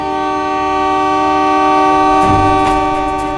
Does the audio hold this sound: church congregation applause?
no